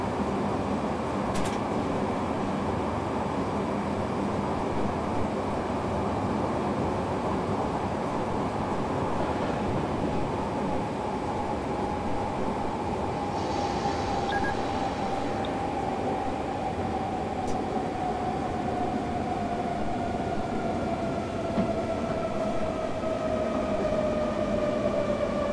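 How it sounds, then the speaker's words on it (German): A freight train rolls through an S-Bahn station in Train Simulator 2015, a continuous loud rumble and rail roar with faint rising tonal whines, steady throughout with no talking. "Güterzug im S-Bahn-Bahnhof, okay."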